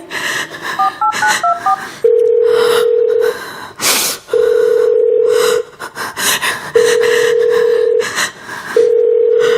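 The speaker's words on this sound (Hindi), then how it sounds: "मेरे बेटे को फोन मिलाइए।" Telephone keypad tones beep in a quick burst, then several long steady dial tones sound with pauses between them, loud and clear, with gasping breaths nearby.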